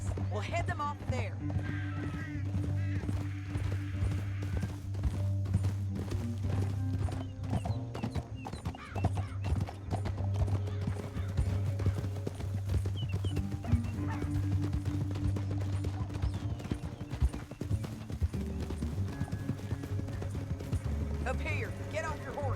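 Horse hooves clip-clopping in the video game Red Dead Redemption 2, a steady rhythmic hoofbeat under a low music drone, with occasional dog barks and a whinny mixed in.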